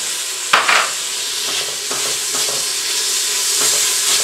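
Onions and serrano or jalapeño chilies frying for keto chili con carne, a steady close sizzle and hiss with a few brief stirring scrapes and clatters, no talking.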